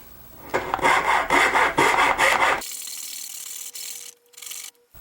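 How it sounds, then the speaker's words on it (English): A coping saw cuts out the waste between dovetails in a piece of wood: a close run of rhythmic rasping back-and-forth strokes, then after a pause a few lighter scraping strokes. "I'm going to cut this center piece out with my coping saw."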